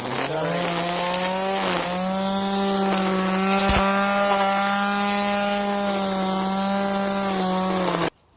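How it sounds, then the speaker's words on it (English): Bosch ART 23 electric strimmer trimming a strawberry patch in a garden, a steady loud motor whine with a constant pitch running for about eight seconds before cutting off abruptly. "The bonus strawberry patch trimming ending to make up for the unboxing."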